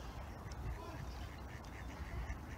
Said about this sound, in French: Les canards, ils font beaucoup de bruit.